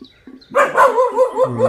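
A dog barks nearby in a loud run of quick yips and barks in a hillside village, following a few faint earlier sounds.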